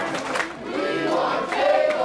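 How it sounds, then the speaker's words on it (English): A wrestling crowd in a packed arena chants for tables during a Brodus Clay/Tyrus match, a dense rhythmic roar of many voices rising and falling steadily at a distance. "The crowd asking for tables"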